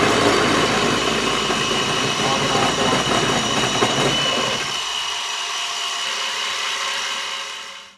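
Machining a turbo scooter rim hose holder: a loud, steady broadband cutting and motor whine runs for nearly five seconds, then drops to a quieter sustained machine hum until it fades at the very end.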